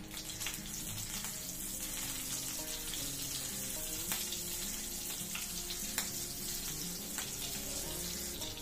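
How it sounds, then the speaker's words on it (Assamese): Okra frying in a pan with green chilli as it's stirred for a simple breakfast, a steady soft sizzle with scraping stirs and occasional clinks, fairly quiet and constant. "ইয়াত দিলোঁ ভেন্দিখিনি মই ভেন্দিখিনি লৰাই দিছোঁ"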